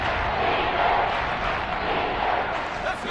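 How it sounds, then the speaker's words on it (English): A football stadium crowd roaring ahead of a big third down, a loud, continuous rumble of massed voices that holds steady throughout with no single voice standing out. "the crowd getting into it as we come up on a big third down"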